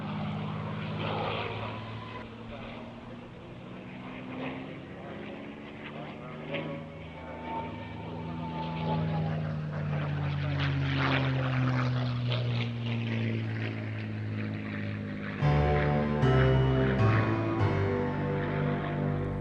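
WWII-era RAF fighters from the Hangar 11 collection fly at the Eastbourne airshow, their piston propeller engines droning loudly and continuously with rising and falling pitch as they pass, with a second, nearer surge toward the end.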